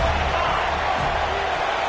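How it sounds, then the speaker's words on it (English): A football stadium crowd roaring on third down, a dense, loud and continuous wash of cheering that fills the whole clip without letup. "and the crowd really getting into it"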